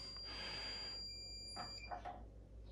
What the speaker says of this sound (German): fängt die Anlage hier an zu piepsen